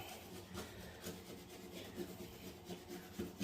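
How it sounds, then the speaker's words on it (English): Old wax residue being scraped off a toilet flange during a toilet replacement, a faint series of short, rhythmic rubbing and scraping strokes, close and quiet, with no talking. "I'll kind of scrape at it"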